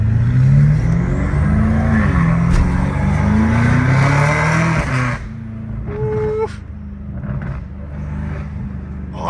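A BMW M5 Competition with a twin-turbo engine revs and accelerates loudly and close by, with a rising drone that breaks off about halfway through into a quieter rumble and a brief whine.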